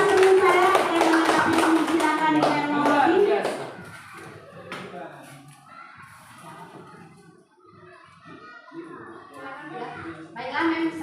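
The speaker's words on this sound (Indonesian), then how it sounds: "Tepuk tangan" A class claps hands together for a teacher, a loud patter of clapping that fades after a few seconds as a woman and others begin speaking, with a few late claps near the end.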